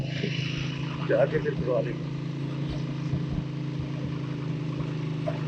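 A motorcycle engine runs steadily at idle on a mountain road trip in northern Pakistan, between Chitral and Garam Chashma, its cover removed, a continuous low hum under a man's speech.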